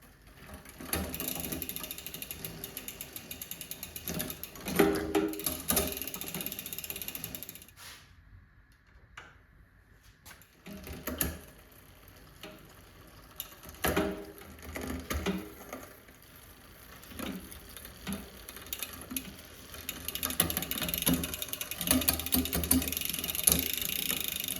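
A bicycle drivetrain is worked on while the limit screws of a SRAM GX derailleur are adjusted during an NX to GX upgrade, with repeated close ratcheting clicks and mechanical whirring that come and go, one brief quiet gap, no talking.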